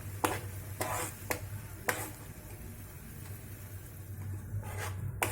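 Gudanna with cardamom being stirred in a pan, a spoon scraping the metal in a handful of short, faint strokes spaced irregularly over a low, quiet background hum, with no talking.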